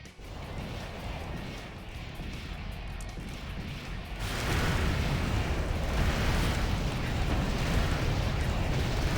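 Rocket blasts in the mech combat game Armored Core 4 roar as a dense, loud wall of explosive rumble that swells and thickens partway through, with continuous crackling debris and no pauses.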